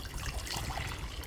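Freshly boiled water for puttu flour being poured back and forth between two vessels to cool it, a brief close, continuous trickling splash.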